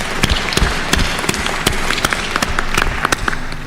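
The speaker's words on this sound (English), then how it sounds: "Let's clap for last." Audience clapping at a university graduation ceremony, a dense patter of hand claps with sharp individual claps standing out, steady and fairly loud throughout.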